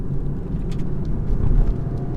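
BMW 320d, a 2020 MHT diesel, accelerating hard in third gear, heard from inside as a steady, loud low engine drone that swells slightly toward the middle, with no talking.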